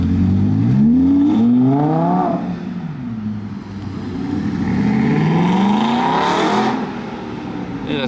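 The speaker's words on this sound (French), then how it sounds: "Aston V8 Vantage." An Aston Martin V8 Vantage S sports car drives past, its V8 engine note rising in rapid revving sweeps, then easing and climbing again as it moves by, fairly close, with a voice talking over part of it.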